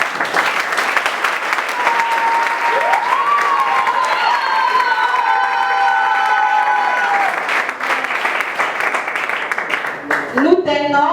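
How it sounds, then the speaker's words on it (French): A church congregation applauds and cheers loudly and continuously, acclaiming the Lord as a standing prophet is honored, with a sustained organ-like tone over the crowd and voices breaking through near the end. "Pendant qu'il se tient debout, on acclame le Seigneur pour sa vie et son ministère."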